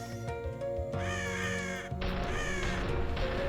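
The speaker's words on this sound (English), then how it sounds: "So many birds." In the vampire game ScarCur, a flock of crows caws repeatedly in harsh overlapping calls. The calls rise in two clusters over a steady droning soundtrack, with no talking.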